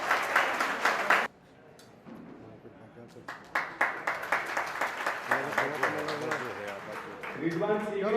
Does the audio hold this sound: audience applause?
yes